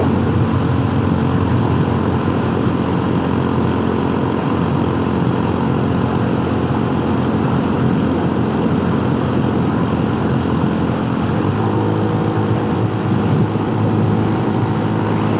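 A scooter engine held at full throttle on a long-distance road ride through the Rockies gives a steady, loud droning roar mixed with heavy wind rush, unbroken for the whole stretch.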